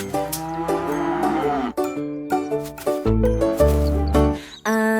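A cartoon cow moos in a bright French children's counting song, its drawn-out call sitting among cheerful melodic music and sung tones at a steady moderate level.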